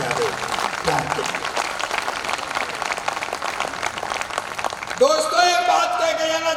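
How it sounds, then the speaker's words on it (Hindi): A hall audience gives loud applause for young poets at a poetry gathering, steady dense clapping that gives way to someone speaking over the tail of the clapping. "मैं एक बार चाहता हूँ कि पूरा सदन मेरे इन सब छोटे भाइयों के लिए जोरदार तालियां बजा दे।"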